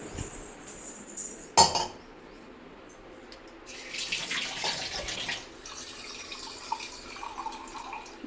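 Water splashes and trickles into a basin, with a sharp clink near the start and a steadier pouring rush through the second half.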